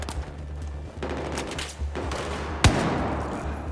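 Gunfire in the video game Battlefield 4, a steady rattle of automatic shots overlapping with deeper booms and one sharp loud blast near the end, with no talking.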